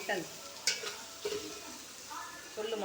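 Mutton and homegrown radish curry being stirred and sautéed in a pot, with scraping stirs and a steady close sizzle, a sharp utensil clink near the start.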